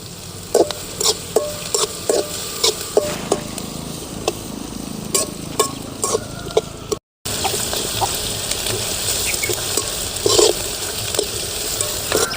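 Onions fry in oil in a pan for mushroom gravy, giving a steady close sizzle with frequent sharp clinks of a spoon stirring against the pan and a brief gap of silence; there is no talk.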